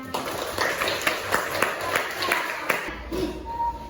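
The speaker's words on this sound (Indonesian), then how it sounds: "Oke, tepuk tangan semuanya" Classroom applause as students clap together before a maths lesson, a rhythmic run of sharp claps over room noise and murmuring voices, ending after about three seconds.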